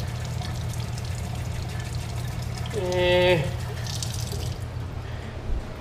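Water runs steadily from a faucet at Walnut Ridge Campground in New Castle, Indiana, near the shower area, giving a constant close rushing hiss with a brief squeaky tone midway and a short spoken utterance.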